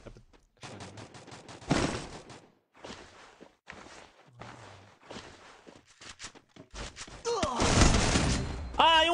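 Gunfire from the mobile battle royale game Free Fire during a tournament match, with bursts of rapid shots and a loud sustained volley near the end, mixed with footsteps and the players talking.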